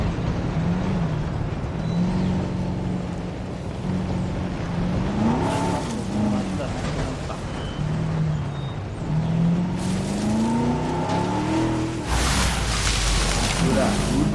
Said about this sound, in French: on va faire de la voiture